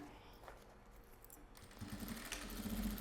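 A sewing machine runs as it stitches a maxi box makeup bag, a quiet steady mechanical whirr that grows louder and busier partway through.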